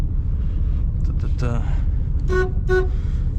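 Two short horn toots from a 1987 Chevrolet G20 Winnebago with a 5.7 V8 sound in quick succession over a low, rumbling engine drone, with a faint tone just before them.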